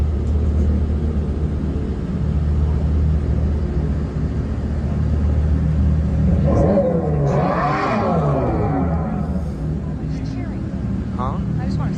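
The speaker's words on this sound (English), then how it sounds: "So it's like a fake idling noise too." An electric car plays a fake engine idling noise through its speakers, a steady low rumbling drone that runs continuously while people talk over it.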